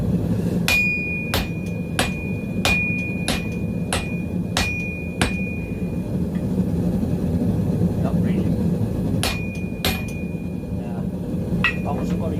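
Hammer blows ring out on a Mastermyr-style hand anvil in a steady rhythm, striking hot metal, each strike leaving a bright metallic ring, pausing, then resuming over a low background hum.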